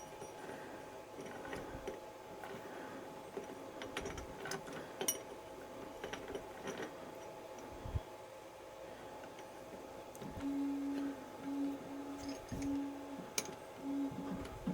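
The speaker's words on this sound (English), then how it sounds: "a nib on the end there I'm going to take off." Small manual lathe turning a nib off the end of a drawbar part, a steady low mechanical hum with faint ticking and scattered light clicks, a humming tone rising near the end.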